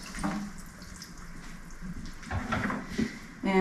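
Garlic scapes rinsed under a running kitchen tap, a steady close wash of water splashing over the stalks, with a sharper burst of flow near the end.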